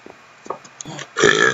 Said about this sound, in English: That was an awesome burp though, you got to admit.